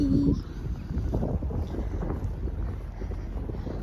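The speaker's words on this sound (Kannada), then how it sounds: "ನೋಡ್ತಿದ್ದೀರಲ್ಲ ಹೇಗೆ ಬೀಸ್ತಾ ಇದೆ ಗಾಳಿ" Wind blows hard against the microphone in a continuous low rumble, with no talking.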